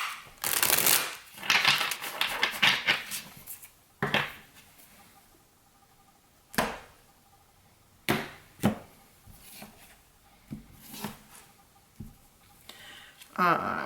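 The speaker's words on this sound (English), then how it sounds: "let me shuffle one more time" Tarot cards shuffled by hand for a reading, giving a series of short papery riffles and taps, a few louder bursts spaced across the stretch with quiet gaps between, close by, while a person talks at times.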